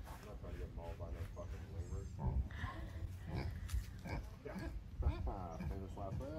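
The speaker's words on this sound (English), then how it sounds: "Pig's getting a little jealous, Ryan" A pig grunts and oinks close by in a run of short, repeated nasal calls, while people talk over it.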